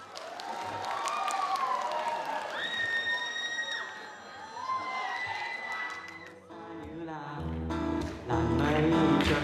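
Audience applause and cheering for a contestant on a televised talent show stage, a dense sustained wash of clapping and shouts with whoops rising and falling, swelling loud again near the end.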